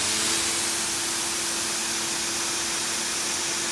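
A Ryobi pressure washer sprays steadily through a 4.0 nozzle at about 725 PSI, giving a continuous broadband hiss with a low steady hum beneath, even and unbroken from start to end.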